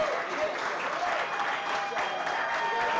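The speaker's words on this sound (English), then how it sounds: "Big round of applause for Paul and Mise en place as well." Audience applause for chefs at a charity cooking showdown, a steady wash of clapping from a sizable crowd that holds evenly throughout.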